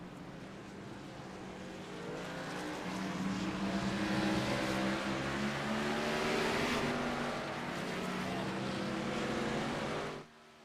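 Race cars pulling off pit road at Daytona during a FLRL regular season finale, a sustained engine drone that swells and holds before cutting off abruptly near the end.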